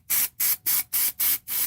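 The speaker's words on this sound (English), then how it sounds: "And I'm just going to spray it." KK 100 temporary spray adhesive is sprayed from a can onto a napkin corner in six short, even hissing bursts close to the microphone, with no talking.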